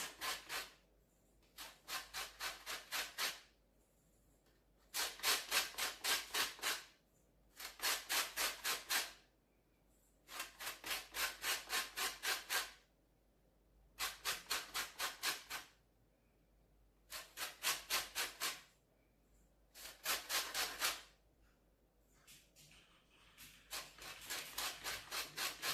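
Fine grater zesting for mince pies: repeated bursts of brisk scraping strokes in rhythmic runs, each lasting about a second or two and separated by short pauses, close and clear with no talking.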